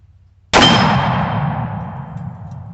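A 454 Casull revolver fires a single hot round: one sudden loud blast that rings out and decays slowly over a couple of seconds, with no talking.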